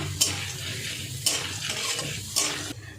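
Dal dry-roasting in a pan without oil, with a low rustling fry broken by three sharp scraping stirs spaced about a second apart.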